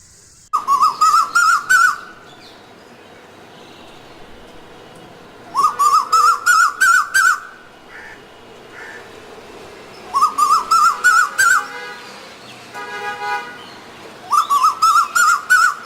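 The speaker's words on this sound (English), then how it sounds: "the sound of the birds was overwhelming" Bird calls ring out along a forest bird trail, loud repeated bursts of rapid descending whistled notes arriving in four separate clusters, with a softer chattering call in between and quiet background in the gaps.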